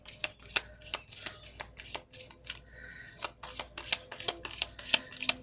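Tarot cards shuffled for a pick-a-card psychic reading, a run of quick riffling bursts and soft snaps repeating steadily, close and fairly quiet, with no talking.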